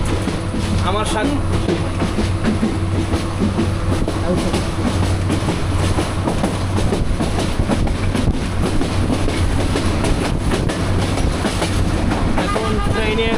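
A Bangladeshi passenger train runs on its tracks at modest speed, with a continuous rumble and rhythmic wheel clatter heard from on board, while people talk over it.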